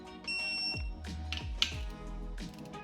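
A short high beep from a digital torque wrench set to 18 foot-pounds sounds near the start, mixed with ratcheting clicks and mechanical thumps from camshaft installation on an LS engine.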